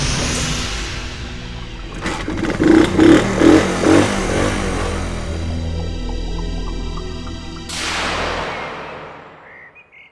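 A motorcycle engine revs up near the start, throbs in a few rough bursts, then settles into a steady idle before cutting off abruptly with a sharp click.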